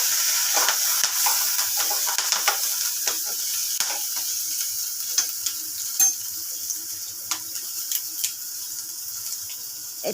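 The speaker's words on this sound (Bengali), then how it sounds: "এবার ভালো করে নেড়ে দিচ্ছি মৌরি বাটাটা, পেঁয়াজটা, কাঁচা লঙ্কাটা নেড়ে দিচ্ছি।" Fennel paste, sliced onion and green chili sizzle in hot oil for a fish and potato curry while a spoon stirs the pan, with steady frying hiss broken by scraping clicks and spatters.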